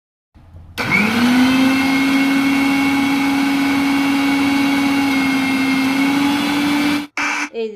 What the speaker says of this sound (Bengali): এরপর মিক্সার গ্রাইন্ডারে এটাকে গ্রাইন্ড করে নেব।